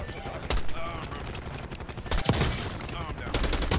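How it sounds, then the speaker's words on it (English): Rapid automatic gunfire from Call of Duty Black Ops 6 in a multiplayer match: dense, loud bursts with sharp louder shots, running continuously with voices talking over the shooting. "Keep shooting at him if you see him."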